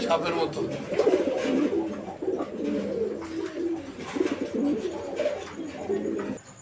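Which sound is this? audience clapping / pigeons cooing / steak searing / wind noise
pigeons cooing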